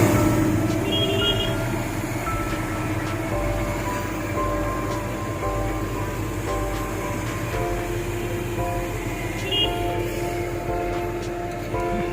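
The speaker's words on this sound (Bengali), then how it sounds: "মালগাড়ি পাস হচ্ছে রেলগেট পড়েছে" A freight train rolls past a closed level crossing in the Haldia industrial area, a loud continuous rumble of wagons with a few short beeps from waiting road traffic, heard nearby without speech.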